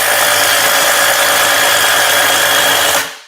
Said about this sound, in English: that's how you drill through the plate